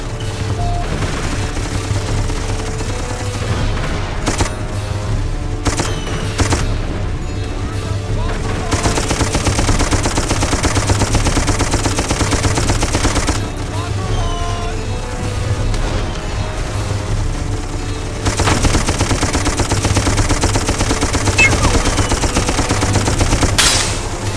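Sustained mounted machine gun fire in the shooter game Darkest of Days, loud, dense rapid bursts rattling nearly nonstop with booming impacts and battle noise, voices shouting over the din.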